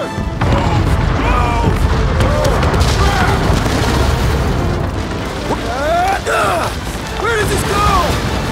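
A string of booming explosions from set charges in a cartoon-style action scene, loud and sustained with crashing debris and shouted voices over the blasts.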